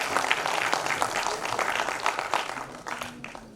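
Audience at a corporate social responsibility conference applauds a panel member, steady dense clapping from a large crowd throughout, fairly loud and sustained with no talk over it.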